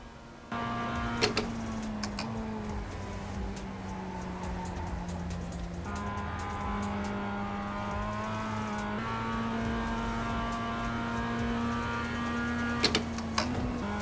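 A race car engine drones steadily through the laps of a racing sim video game, its pitch rising and falling with gear changes, alongside a faint ticking.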